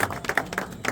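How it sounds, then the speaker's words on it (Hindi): A crowd claps and applauds briefly to welcome a guest at a festive gathering in Amroha, with dense, overlapping claps for under a second. "तालियां"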